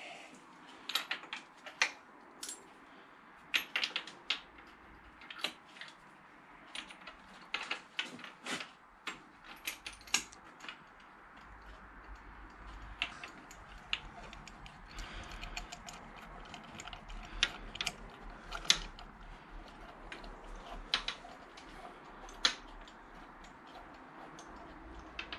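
Spark plugs are turned in by hand on a 1994 Triumph Sprint 900, giving faint, scattered metallic clicks and ratcheting ticks in a quiet setting, irregular and close up.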